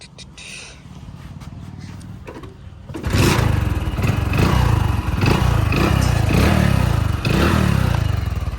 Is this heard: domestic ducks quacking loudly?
no